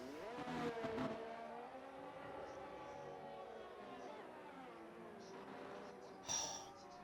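An F1 car on a flying lap in the F1 23 video game at Abu Dhabi, engine wailing steadily and shifting pitch through the gears, heard faintly beneath a commentator's voice.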